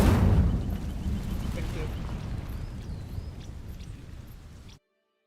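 Incendio fire spell bursting into flame on dry vines in Hogwarts Legacy, a loud whooshing roar that swells at once, then crackles and fades steadily over several seconds before cutting out.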